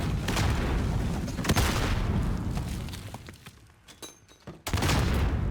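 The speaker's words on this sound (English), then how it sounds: "Grenades coming out now." Grenade explosions during a video game gunfight: sharp booming blasts and crackling gunfire at the start, a quieter stretch, then a sudden loud detonation near the end, with no voices.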